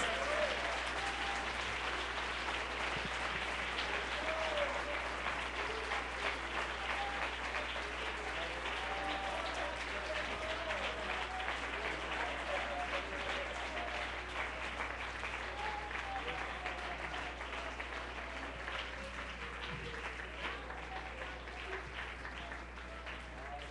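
A church congregation at a Sunday service gives sustained applause, a steady wash of clapping with some crowd voices underneath, fading slightly toward the end.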